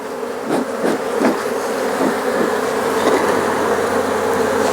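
Honeybees buzz densely around open hive frames, a steady, close swarm drone with a few louder passes of individual bees near the ear, no voices.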